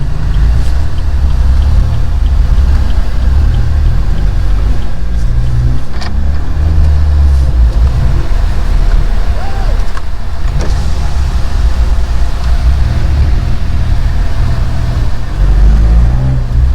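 A stage 2 BMW F30 328i roars under hard acceleration while racing, a loud, close engine drone with booming low rumble, rising revs and intermittent pops, windows down and wind rushing in.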